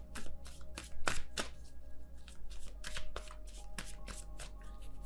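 Tarot cards are shuffled and drawn in quick bursts of crisp riffling and flicking, close and fairly quiet, with short pauses between handfuls.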